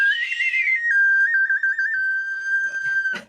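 A single person whistles a sustained, clear tune for about three seconds, holding a steady pitch with a brief warbling trill in the middle, close and loud with no talking over it.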